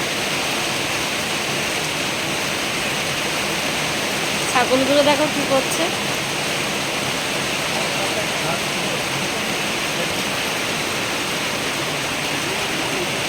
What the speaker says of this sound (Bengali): তারপর বৃষ্টি পড়ছে